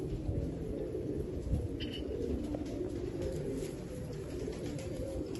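Breeder pigeons kept for rooftop pigeon flying coo in a low, continuous murmur. The soft, steady warbling fills the whole stretch and no one speaks over it.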